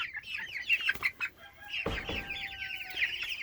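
Chickens inside a chicken tractor built from wooden framing and cattle panels cluck and chatter continuously at close range, with a brief metallic clank partway through.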